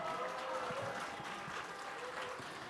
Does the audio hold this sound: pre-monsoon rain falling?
no